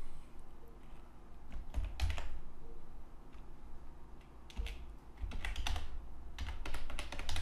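Keystrokes on a computer keyboard while entering text into a web page editor, clicking in quick, irregular bursts with short pauses, close and fairly soft, no one talking.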